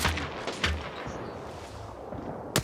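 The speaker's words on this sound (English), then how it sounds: "firing a few warning shots across to one another" Warning shots traded between squads in an Apex Legends esports match, a few sharp distant gunshots spaced apart over a low continuous game backdrop.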